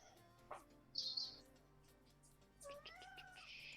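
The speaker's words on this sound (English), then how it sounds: "Oh, I heard a cat" A house cat meows a couple of times close by, a short high cry followed by a longer, wavering meow, with quiet room noise around it.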